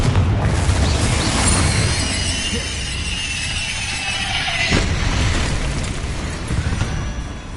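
A Confringo fire spell erupts in Hogwarts Legacy with a sustained loud, rumbling explosive burst, then steady roaring crackle with a sharp crack near the middle, continuing dense and loud throughout.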